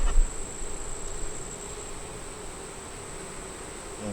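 Honey bees buzz around a backyard hive in spring, a steady, faint insect hum that carries through with a brief louder rustle near the start.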